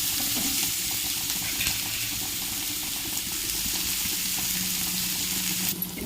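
Steady, loud sizzling of onions frying in a pan, with occasional stirring scrapes throughout.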